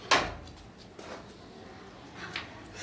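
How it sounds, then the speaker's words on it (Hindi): A door in a home is pushed open with a sharp wooden knock and creak at the start, followed by a couple of softer bumps and rattles in a quiet room. "अरे दरवाजा किसने खोला?"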